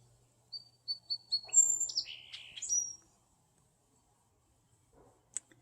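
Baby woodpeckers chatter at a backyard feeder tree as their mother feeds them, with a quick run of high, close chirps and squeaks followed by silence and one last sharp call.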